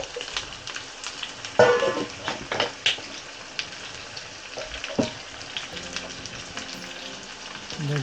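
Vegetables and squash for pinakbet are sautéed in a pan, giving a close, steady frying hiss marked by irregular stirring clatters and scrapes. No one speaks.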